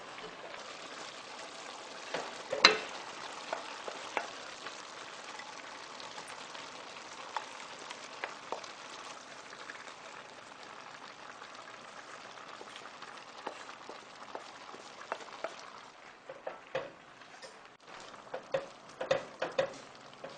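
Carrots, celery and other vegetables cooking in a stew pot, giving a soft steady sizzle and bubble with scattered clinks and stirring knocks, moderately quiet and continuous throughout, no voices.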